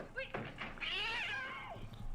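Cat giving a single drawn-out, rising and falling meow at close range, preceded by a couple of short thumps and faint background noise.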